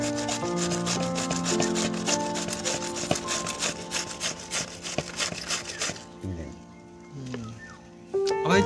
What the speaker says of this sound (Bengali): আমার এই চাঁচা মেশিনটা খুব সুন্দর হয়েছে।